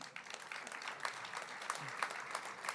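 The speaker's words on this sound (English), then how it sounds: "Don't clap yet." Audience applause at the USAC Night of Champions motorsport banquet: faint, steady clapping from a crowd that sounds somewhat distant, with scattered sharper claps over a continuous patter.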